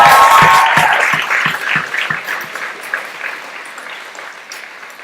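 Graduation audience applause, loud and dense at first, then gradually fading over several seconds into scattered clapping.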